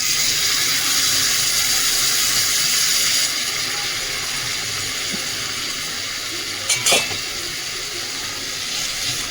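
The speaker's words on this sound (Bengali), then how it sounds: "এবারে এই সময় মোচাটা দিয়ে দিচ্ছি" Banana flower (mocha) goes into a hot pan for a Bengali ghonto, giving a loud, steady hissing sizzle that eases slightly after a few seconds, with a brief clatter midway.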